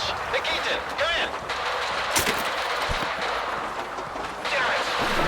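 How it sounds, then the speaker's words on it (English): Gunfire in the video game S.T.A.L.K.E.R. 2, bursts of automatic shots and heavy reports in a busy combat soundscape, with voices and other game effects mixed in. "Is that gunfire over there?"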